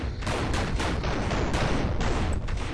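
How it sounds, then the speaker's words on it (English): Rapid bursts of automatic gunfire in the video game Murder Miners rattle continuously, loud and close, with overlapping shots and no pauses. "Watch the gunfire"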